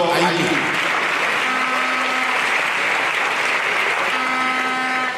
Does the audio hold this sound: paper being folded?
no